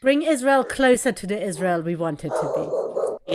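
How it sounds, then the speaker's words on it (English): Dogs bark and yip in the background of an indoor conversation, brief sharp calls scattered under steady talk, with a louder burst near the end. "there are the dogs. Sorry about the dogs."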